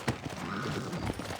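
Horse hooves clop in a steady, quick rhythm in the Western video game Red Dead Redemption, fairly soft and even, with faint background sound and a hint of voice.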